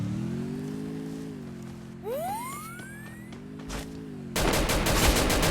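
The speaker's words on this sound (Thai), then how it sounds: "ยิงเจ็บด้วยนะครับ" Gunfire in the video game Free Fire, a burst of rapid automatic shots near the end after a steady game hum and a rising synthetic whistle, loud and close with no talk.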